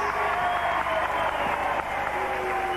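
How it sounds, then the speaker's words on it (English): A packed crowd at a wrestling bout in Floral Hall, Southport, applauds in a steady, dense wash of clapping that holds loud and even throughout with no voices standing out. "I think everybody here in this packed hall, Floral Hall at Southport, really applauding this"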